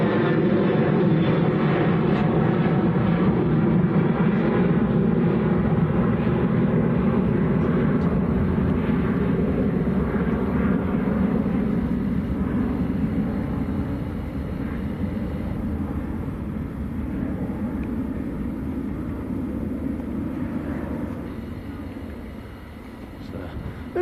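Ryanair airliner departing Manchester Airport for Corfu, a steady loud jet engine roar that holds for the whole span and eases slightly toward the end, with voices talking over it.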